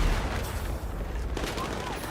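Rapid bursts of gunfire in a video game battle rattle at moderate loudness with low booming impacts, while someone talks over the shooting.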